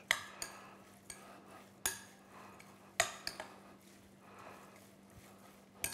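A spoon stirs and scrapes a stuffing mixture in a bowl, giving irregular clinks and knocks against the sides with soft mushy swishes between them, close by, with no talking.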